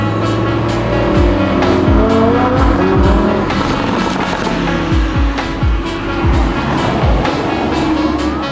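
A 2015 Lamborghini Huracan drives loud and close, its engine revving and shifting with repeated rising and falling sweeps, tires squealing at moments, a continuous roaring run with no talk.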